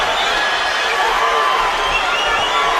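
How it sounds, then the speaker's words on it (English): A boxing arena crowd during a fight between Crawford and Beltran makes a steady, dense roar of cheering that swells slightly and holds at a constant loud level throughout, with no clear voices standing out. "Crowd wakes up just a little bit as Beltran manages to threaten Crawford a couple of times in the center of the ring."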